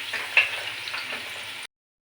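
Finely chopped onion fries in a pan with a close, steady sizzle and a few stirring scrapes, then cuts off abruptly into silence.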